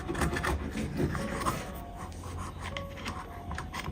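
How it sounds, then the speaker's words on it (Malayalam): A knife works coconut flesh loose from the hard shell, with close scraping and rubbing sounds that come in short, uneven strokes. "തേങ്ങയുടെ സൈഡൊക്കെ ഇതുപോലെ കത്തിയുണ്ട് ഒന്ന് വിടിയിച്ചു കൊടുക്കാം"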